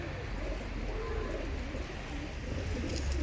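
Pigeons in a coop area give soft cooing calls over a steady dense background, with possible wing flutter toward the end; continuous and moderately close.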